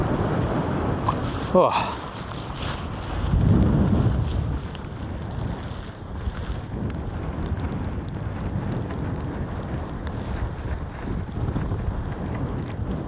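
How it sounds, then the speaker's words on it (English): Strong storm wind buffets an open hillside at a wild camp during Storm Amy, roaring and gusting against the microphone throughout, with a short exclamation heard once over the steady rush. "it looks like the wind might actually be coming from a different direction than I initially thought"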